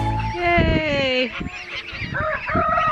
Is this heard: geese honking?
yes